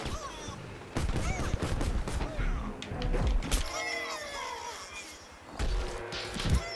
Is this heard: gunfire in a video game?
yes